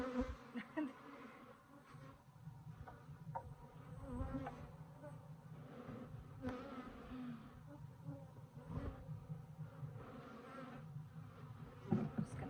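Cordovan Italian/Africanized hybrid honeybees hum continuously inside an open hive on drawn comb, a dense close buzz with occasional louder passes and knocks of handling, slightly agitated, no speech.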